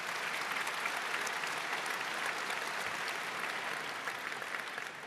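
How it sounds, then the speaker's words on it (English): Audience applause at the Cisco Live 2025 opening keynote, a large crowd clapping in a dense, steady roar that holds evenly, distant and moderately quiet, tapering slightly at the end. "Big applause"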